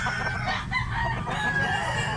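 A rooster crows loudly and close, one sustained call over rough farmyard background with clucking fowl, no voices.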